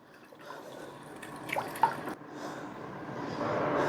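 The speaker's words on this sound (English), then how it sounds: "I'm going to add some water just to thin it out a bit." Water splashes and trickles into a pan of thick creamy sauce, with a few small clinks, the pouring growing steadier toward the end.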